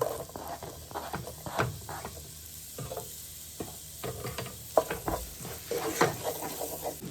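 Garlic and onions fry in melted plant-based butter in a pan, a soft close sizzle under frequent stirring clicks and scrapes of a utensil against the pan, with no voices.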